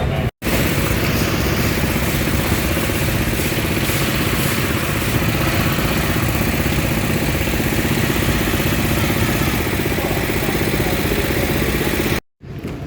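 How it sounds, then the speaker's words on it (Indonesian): A motorcycle engine runs steadily in a flood-hit town in Aceh Timur, giving a loud, unbroken rumbling drone that fills nearly the entire stretch, with only brief dropouts at the start and end. "Motor aktif ya, motor."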